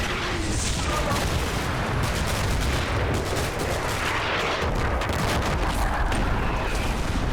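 Dense gunfire and artillery from the World War II game Combat Mission: Battle for Normandy, a continuous loud roar of shots and booms with no break throughout.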